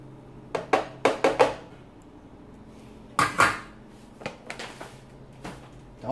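A sweet potato pudding mixture with oven-safe sweetener being beaten, heard as short bursts of clattering utensil knocks against a container, a quick cluster early on and another after a pause, close by and moderately loud.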